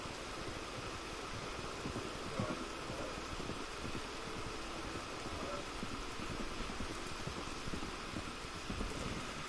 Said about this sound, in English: Man, it's blowing a gale.